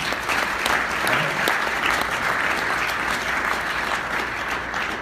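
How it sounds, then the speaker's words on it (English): A large audience claps in loud, dense applause that holds steady from start to finish. "So give yourself a round of applause."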